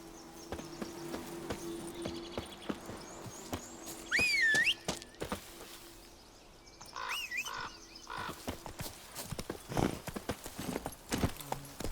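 Horse hooves clip-clopping steadily in The Witcher 3 video game, a soft, continuous trot under ambient forest sounds with occasional bird calls.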